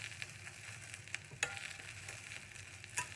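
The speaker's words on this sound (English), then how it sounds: "You hear that sizzle." Spinach wilting in a hot pan gives a steady crackling sizzle, with a few sharper pops and a light stirring scrape, close and continuous without any talk.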